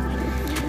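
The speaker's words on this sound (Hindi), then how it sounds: "ये 30-40 कबूतर हैं पकड़ के" A flock of thirty to forty caught pigeons gives a short, low coo, close and steady over a faint background hum.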